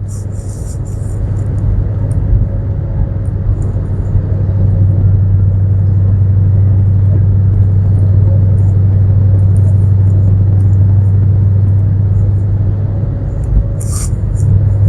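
A steady, deep V8 exhaust drone fills the cabin of a 2013 Ford Mustang GT 5.0 with a Solo Performance axle-back exhaust at 55 mph, a low constant rumble with faint ticks and rattles on top.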